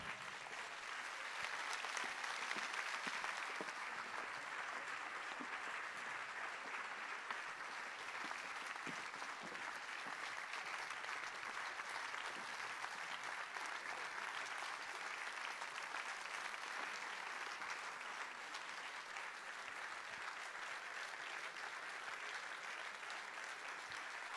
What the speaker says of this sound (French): C'est le moment, vous pouvez les applaudir.